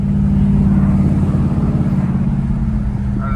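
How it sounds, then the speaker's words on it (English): Big-block V8 exhaust on a 49-year-old Ford Thunderbird while driving, a continuous, steady low drone heard from inside the car with no talk over it. "I don't know if you can hear the exhaust at all, but it sounds just clean"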